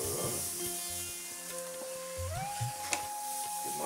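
Organic spelt semolina sizzling and frying in hot oil in a pan, a steady dense crackle running throughout at close range, with a brief tonal whine rising partway through.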